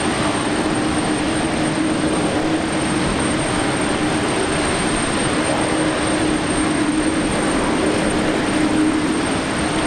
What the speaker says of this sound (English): Nice A320 Neo coming in now from Jetstar